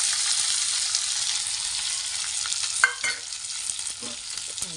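Onion sizzles steadily in hot oil with curry leaves in a pan, a continuous close frying hiss broken near the end by a few scraping stirs of a spoon.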